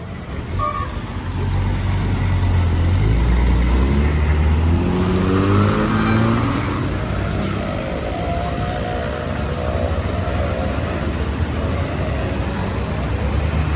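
Steady street traffic in Colombo Fort, Sri Lanka, with cars and buses rumbling past close by, engines rising and falling as vehicles accelerate through a continuous roar.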